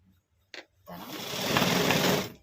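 A sewing machine stitching a fold on jeans fabric gives a short whirring run that builds and then stops, after a brief click at the start.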